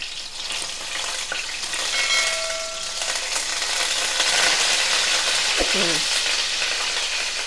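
Whole spices, mace and curry leaves fry in hot oil for a mutton keema dum biryani, giving a steady, close crackling sizzle with a brief metallic clink of a utensil partway through.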